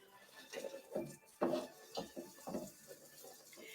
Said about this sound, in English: We're going to get stirring.